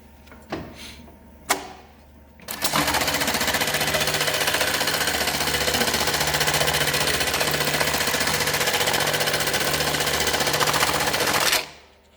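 A Consew CM1900HS industrial sewing machine with pneumatic tension runs after a couple of sharp clunks, then hums and chatters in one long continuous, loud, close stitching run of about nine seconds before stopping.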